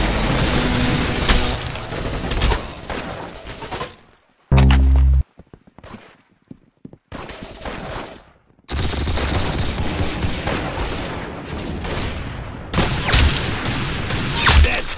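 Video game gunfire in loud, dense bursts of rapid shots and booms, broken by a short sharp blast and a few seconds of near silence before heavy firing resumes.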